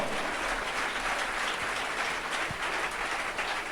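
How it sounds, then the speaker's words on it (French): A church congregation applauds loudly in praise of Jesus, a sustained wash of many hands clapping at moderate distance, steady and unbroken throughout. "Dale un fuerte aplauso"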